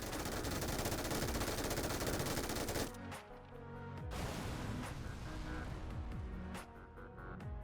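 MG3 machine gun in PUBG firing at a BRDM armored vehicle, loud continuous automatic bursts, with a brief pause and then sustained fire again.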